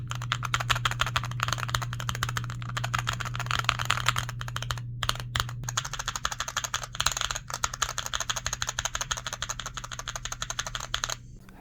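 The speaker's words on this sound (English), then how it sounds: "The ones that come stock are LTC crystal similar reds," Stock LTC Crystal red-style full-size switches on a Slab MX slab-style arcade controller, pressed in a quick steady patter of light clicks and clacks, close and moderately quiet with no talking.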